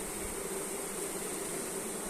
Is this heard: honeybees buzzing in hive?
yes